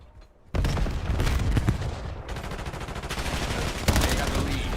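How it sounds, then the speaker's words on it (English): A first-person shooter video game gives off dense, loud gunfire, a rapid stream of automatic shots with a sharp blast near the end. "Semtex out."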